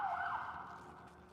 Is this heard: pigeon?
no